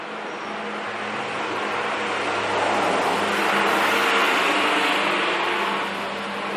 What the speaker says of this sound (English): So now I am recording the background noise and the traffic noise